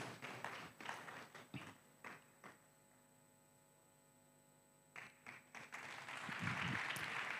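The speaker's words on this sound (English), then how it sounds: "Let's clap for her as she comes." Audience applause at a graduation ceremony, with scattered claps at first, a quiet gap, then a fuller burst of clapping toward the end over a steady background hum.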